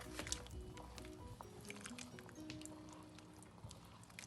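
Coconut milk is stirred into a shrimp curry in a pan, producing soft, quiet wet squishing and sloshing with small clinks and drips.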